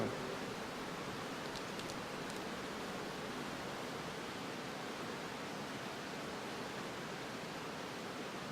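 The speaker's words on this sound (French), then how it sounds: "je l'ai calé sur une fréquence radio FM où il n'y a que du bruit blanc" FM radio tuned between stations gives steady, unbroken white-noise static with no tuning sweep, a constant faint hiss that stays level from start to finish.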